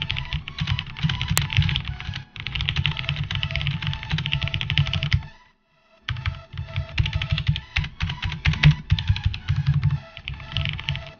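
Fast, continuous clacking on a HyperX Alloy FPS Pro mechanical keyboard, a dense run of keystrokes broken once by a brief pause before the typing resumes.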